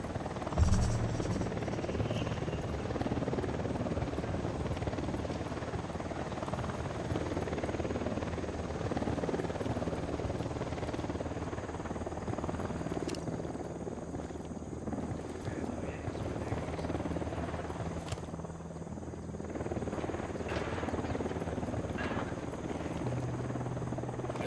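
A helicopter flies overhead in Ghost Recon Wildlands, its rotor drone a steady, fairly distant hum that lasts throughout with slight swells, under faint background noise.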